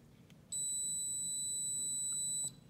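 A voltage tester's continuity function gives one steady, loud electronic beep lasting about two seconds, standing alone over faint background hum.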